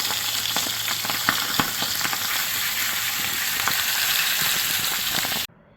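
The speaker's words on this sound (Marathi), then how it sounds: "Green masala fry." Green masala for Goan crab xacuti fries in a pan with a steady, loud sizzle and scattered crackling pops, broken by stirring scrapes, before cutting off abruptly near the end.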